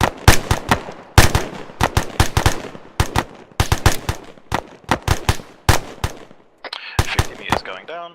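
Simulated rifle fire at range targets during a marksmanship test in the video game Arma 3, with many sharp, loud shots in uneven bursts and single rounds, and a brief voice joining near the end.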